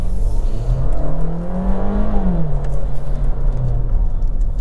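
A 2024 Skoda Slavia 1.5 DSG sedan accelerates hard, its loud engine note climbing in pitch, easing briefly and then holding strong throughout, close and continuous with no talking.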